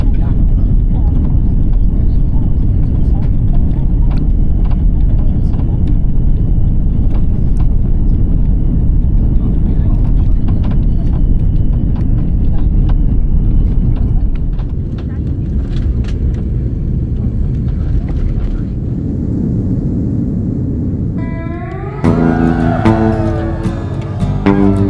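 Broad, steady roar inside the cabin of an Air China Airbus A330 airliner during landing, loud and continuous with rumbling low end, easing slightly toward the end before a brief tonal chime-like sound at the close.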